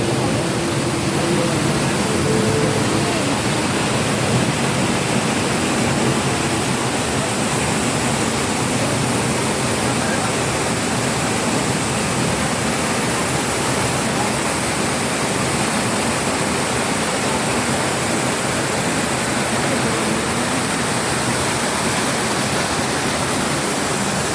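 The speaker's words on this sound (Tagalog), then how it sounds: "Yan! po ang falls." Mountain waterfall roaring with a steady, dense broadband rush throughout, loud and unbroken for over twenty seconds with no voices.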